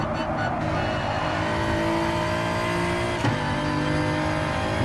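A BMW race car in Gran Turismo Sport holds a steady, loud engine drone at high revs, with a brief tire scrub partway through and no talking.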